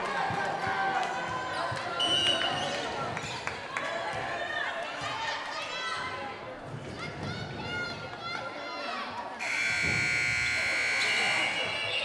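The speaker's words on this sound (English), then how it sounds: "that's a tough time for the buzzer to go off." Timeout clock buzzer sounding in a high school volleyball gym during a broadcast match, a loud steady electronic buzz near the end that follows squeaking shoes, a bouncing ball and a commentator's voice.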